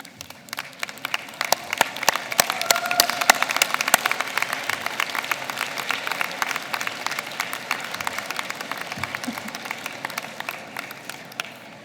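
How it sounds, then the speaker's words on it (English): Audience at a fall convocation ceremony applauds the graduates' guests, a dense, steady wash of many hands clapping from a large crowd, sustained for several seconds. "and give them a round of applause."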